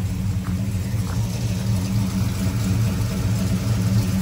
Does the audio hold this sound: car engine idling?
yes